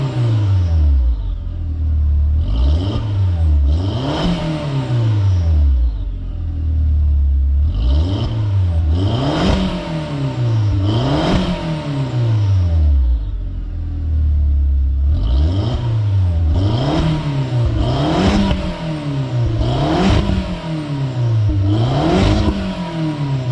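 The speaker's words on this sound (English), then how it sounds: "Let's see how she sounds with some revs." A 2003 Jetta 1.8T engine with a muffler delete revved repeatedly in bursts, each rev climbing then dropping, loud and raspy with an unmuffled exhaust tone, about three groups of revs.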